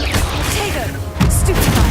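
A Confringo blasting curse in the Hogwarts Legacy game fires off a loud, crackling explosive burst about a second in, over a busy backdrop of battle clatter and rumble.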